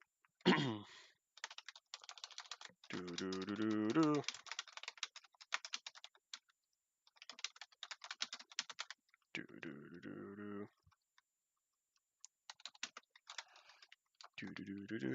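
Computer keyboard typing in bursts of rapid clicks, close and clear, separated by pauses, with a voice talking in between.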